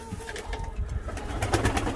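Tumbler pigeons in a flight loft, with soft low cooing and fluttering close by, a busy mix of bird sounds that runs the whole time without voices.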